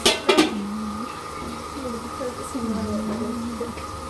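A lid clanks down onto a pot of cooking chicken biryani in a home kitchen, a couple of sharp metallic knocks right at the start, followed by someone talking over the quiet background.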